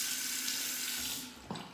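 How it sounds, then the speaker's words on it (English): Tap water runs steadily into a sink, wetting the corner of a face cloth, a close, even hiss of flowing water that changes and thins near the end as the cloth is moved under it. "Wetting a cloth, just a face cloth, I'll wet the corner."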